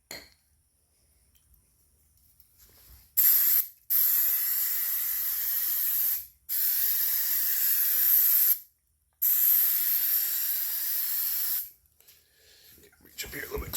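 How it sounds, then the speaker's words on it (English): 3M sprayable adhesive hisses from an aerosol can in four long, loud bursts separated by short pauses in a quiet garage, with faint handling sounds before and after. "sprayable adhesive."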